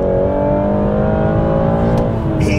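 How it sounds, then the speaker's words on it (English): A BMW M240i coupe's engine pulls hard in second gear, a loud, smooth, continuous rising drone heard from inside the car with no talking. "It is so powerful, the engine, and so smooth."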